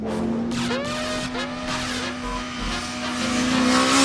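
A high-revving 1000cc superbike engine wails close by on a track, its pitch rising and dropping through quick gear changes with a steady drone underneath.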